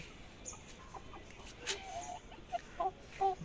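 About nine hens clucking softly inside a converted pigeon coop in short, scattered bursts, growing more frequent toward the end, close by with a quiet background.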